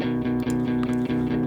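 A low electric guitar part recorded with a dynamic and a ribbon mic chugs out a steady rhythmic pattern of repeated low notes, full and close.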